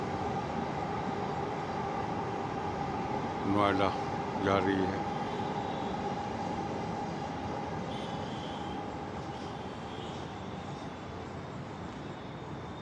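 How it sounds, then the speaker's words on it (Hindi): A steady low rumble of a Delhi Blue Line metro train passing at night throughout, with brief speech partway through and a faint hum underneath. "ये देखिए ब्लू लाइन मेट्रो सर्विस है"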